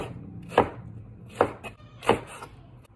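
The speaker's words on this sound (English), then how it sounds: "I'm going to cut small pieces." A knife chops pickled mustard greens on a board in three separate sharp strokes spaced roughly a second apart, close and clear against a quiet background.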